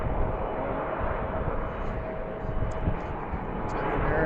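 An airplane departs at BWI airport with a broad, steady engine roar that holds loud and even throughout, heard from a distance without talk.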